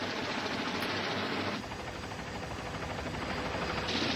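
A police helicopter surveying a burglary scene: loud, steady rotor and engine roar throughout, a dense broadband wash that dips slightly midway and swells again toward the end.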